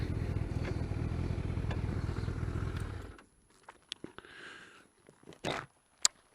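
A motorcycle engine rumbles loud and close for about three seconds, then cuts out, leaving only scattered clicks and handling noises.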